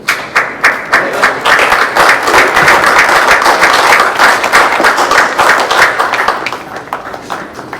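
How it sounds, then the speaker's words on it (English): Audience applause at a regular board meeting, a loud, dense patter of clapping hands that starts with a few separate claps, swells to a steady roar and thins out again near the end. "applaud everybody who got on it tonight"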